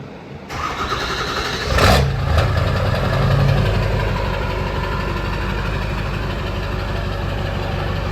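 A 2002 Ford F350 dually with a 7.3 Powerstroke diesel and a 5-inch straight pipe with a 6-inch tip cranks after a brief silence, fires with a loud bark, then settles into a steady, rough, close idle.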